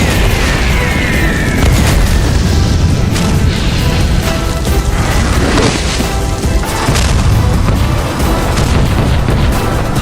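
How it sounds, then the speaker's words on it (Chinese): Heavy artillery fire and explosions pound a monster lair in a forest, a dense, continuous roar of booms and crashes that stays loud throughout with no speech. "外面的炮火越来越近了"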